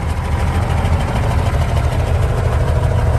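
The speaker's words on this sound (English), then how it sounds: "Nice rumbly exhaust, Cummins style." A heavy Cummins diesel engine in a tandem Crown bus idling with a deep, loud, steady rumble and a faint rattling knock, close by and continuous, no voices.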